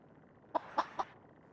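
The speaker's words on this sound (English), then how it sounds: "The undead baby chicken, again, is quite a unique rare design and has its own clucks again." An undead baby chicken mini pet in the Guild Wars 2 video game gives three short, clipped clucks in quick succession over a soft, steady background hiss.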